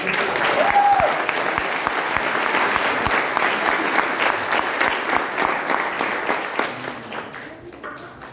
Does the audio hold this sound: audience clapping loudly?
yes